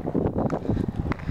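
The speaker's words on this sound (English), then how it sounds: "It's windy" Gusty wind buffets the microphone outdoors while rollerblading, a rough low rumble that swells and dips continuously through the short stretch.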